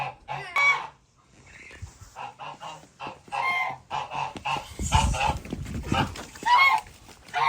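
Geese and farmyard fowl call out in repeated honks and clucks, loud and near, in bursts across the whole stretch, with brief rustling between calls and no clear talk.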